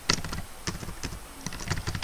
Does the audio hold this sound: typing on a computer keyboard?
yes